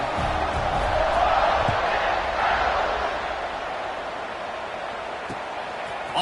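A stadium crowd in College Football 26 sends up a broad, sustained roar of cheering that swells early and then eases slightly, filling the background throughout.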